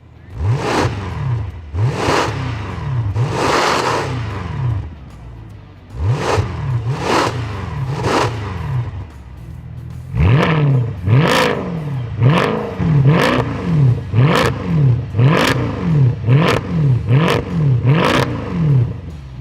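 A Mercedes C63 507 Edition (W204) with an FI stainless sport exhaust is revved while parked: a few spaced throttle blips, then a rapid run of sharp, loud revs that crackle back down between bursts.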